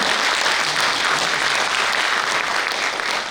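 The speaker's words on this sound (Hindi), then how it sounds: "एक बार जोरदार तालियों से इनका स्वागत करें" Loud, steady applause from a poetry-recital audience at a kavi sammelan in New Delhi, welcoming guests, a dense wash of clapping that holds constant throughout with no voices over it.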